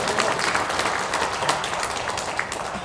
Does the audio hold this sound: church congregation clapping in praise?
yes